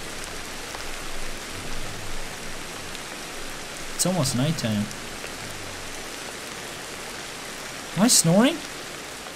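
Steady rain hiss from the video game Ancestors fills the background throughout, a soft even wash that continues under two short bursts of talk.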